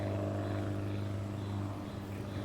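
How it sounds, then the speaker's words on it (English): A red de Havilland Beaver propeller floatplane drones steadily overhead near Bear Mountain, a continuous low engine hum heard alone at moderate distance without talk. "It's a de Havilland Beaver."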